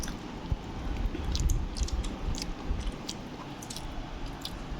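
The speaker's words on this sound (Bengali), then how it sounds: "আমি খাচ্ছি এখন লতি দিয়ে চিংড়ি শুটকি।" Close, quiet chewing and soft squishy bites of a home-cooked lunch of kochu loti with dried shrimp, a steady run of wet mouth sounds with no talking.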